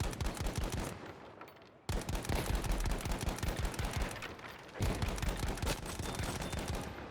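Gewehr 1-5 semi-auto rifle in Battlefield 5 fired in rapid bursts, dense repeated cracks with short pauses between strings of shots, loud and close.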